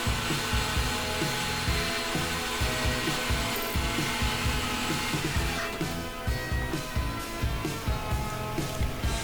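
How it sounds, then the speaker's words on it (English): A drill grinds steadily, boring a pilot hole close by, with a rough rhythmic chatter and scraping that continues throughout. "Go ahead and drill us a pilot hole."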